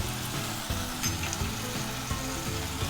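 Kashmiri red chillies frying in kadai paneer masala, a loud continuous sizzle with rhythmic scraping thuds of stirring, close and steady with no talk.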